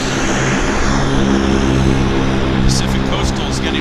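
A Pacific Coastal propeller plane taxiing at Vancouver airport, with a steady droning engine hum in the distance and a voice talking over it.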